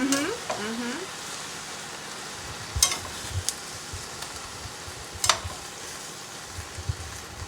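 Kale frying in a hot pan, a steady hiss of sizzling with occasional stirring scrapes and clicks, close and continuous.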